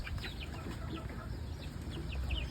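Feathered-footed chickens on a farm in Batangas cluck repeatedly in short, close bursts over a steady outdoor background, with no voices.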